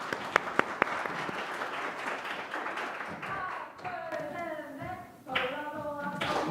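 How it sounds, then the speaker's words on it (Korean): Audience clapping for a contestant at a youth speech competition fills the first few seconds, loud and dense, then thins out as a voice begins speaking over the fading applause. "정수민 참가자의 연설을 박수로 들어보겠습니다."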